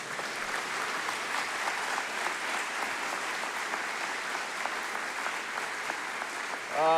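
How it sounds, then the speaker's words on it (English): Sustained audience applause at a change of command ceremony, a dense, even clapping that carries steadily for several seconds, with a brief voice at the very end. "You can applaud on that one."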